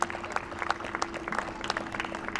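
Audience at an outdoor band concert in Nixon Park, Hartland, Wisconsin clapping for the MC, a short, moderately loud burst of dense applause.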